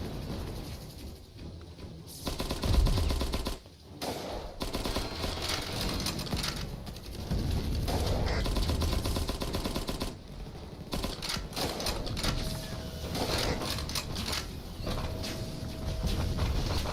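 Turrets fire repeatedly in the video game Cavalry Girls, a dense rapid clatter of shots running almost without pause, fairly loud and steady across the whole stretch, with brief gaps near the start and middle.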